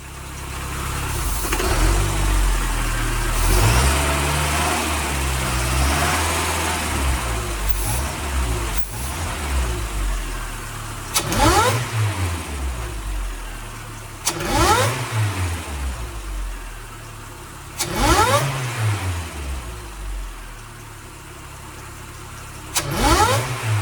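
A supercharged 22RE four-cylinder engine in a Toyota 4Runner cranks to life, settles into a rough idle, then gets several sharp throttle blips that rise and fall, with the engine close and loud and no talking.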